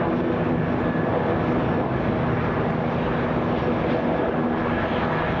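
Delta airliner landing on runway 26 right at Atlanta Hartsfield-Jackson airport, a steady broadband jet roar with a faint engine whine, unbroken and fairly loud throughout, with no talk.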